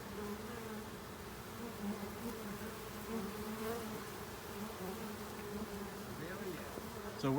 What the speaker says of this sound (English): here indeed is the swarm of bees.